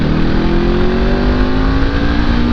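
A motorcycle engine drones steadily at near-constant load while riding a winding road, its tone slowly climbing as the bike holds speed, with wind rush underneath and no voices.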